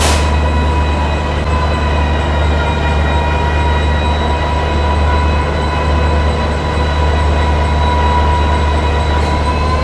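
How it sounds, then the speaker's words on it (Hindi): Humsafar Express train with a diesel locomotive, a loud, continuous rumble and drone with steady tonal whine from the engine, sustained close by throughout without pause. "डीजल लोकोमोटिव के साथ ही जाने वाली है अपनी हमसफर एक्सप्रेस"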